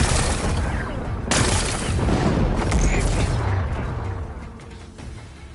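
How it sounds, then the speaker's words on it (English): Power cell exploding in the Horizon video game: a heavy, loud blast followed by a dense roar of crackling debris and rumble that slowly fades out over several seconds. "It's exploding."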